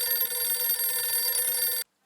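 A telephone bell rings loudly and continuously in an indoor Indian sitcom scene, a steady electric trill that cuts off abruptly near the end, followed by near silence.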